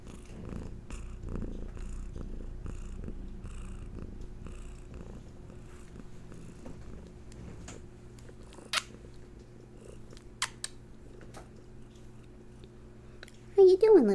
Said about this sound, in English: It's a Hattie cat. You want to give the purrs?